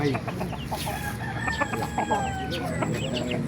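Roosters crow and chickens cluck at a busy poultry market in Bocaue, several birds calling over one another in overlapping bursts close by.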